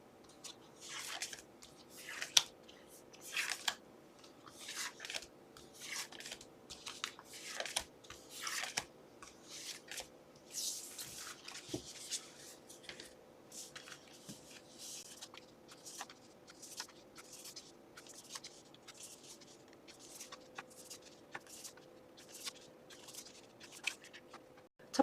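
Tarot cards being shuffled and drawn, heard as a long run of soft, close riffling and flicking card sounds in irregular bursts. A faint steady hum sits underneath.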